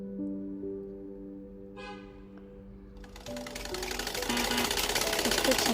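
Saree pico and fall stitching starts on a sewing machine, a steady rapid mechanical whir that rises and grows louder after a few seconds of quieter tones and a brief rattle.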